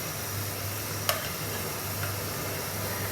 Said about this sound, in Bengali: এখন আমি মশলাটা একটু কষিয়ে নিই